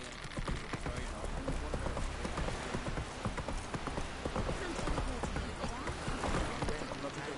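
Roach the horse gallops in The Witcher 3, a steady, fast clip-clop of hooves pounding continuously throughout, close and loud, with a voice speaking over it.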